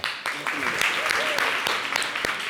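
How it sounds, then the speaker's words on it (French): Audience applause for a singer on a French-language TV programme, short and steady, with voices heard over the clapping. "merci de l'applaudir"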